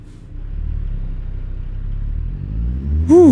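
A dump truck pulling away in American Truck Simulator, a steady low engine rumble building as it accelerates, with a voice breaking in right at the end.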